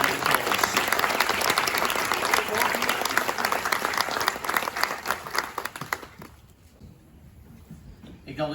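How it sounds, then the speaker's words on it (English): Loud, dense audience applause at a school sports award night, honoring silver medal winners, steady for about six seconds before thinning into quiet room noise. "Can we please give all our silver award medal winners a round of applause?"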